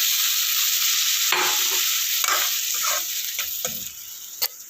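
A spoon scrapes and stirs mushroom gravy through a sizzling pan, loud frying hiss with several distinct clinks and scrapes near the end.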